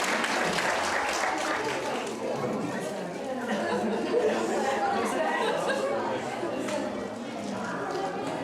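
Audience applause at a Christmas party fills the room as a dense, steady wash of clapping mixed with crowd chatter and voices throughout.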